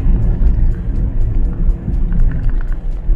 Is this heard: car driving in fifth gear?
yes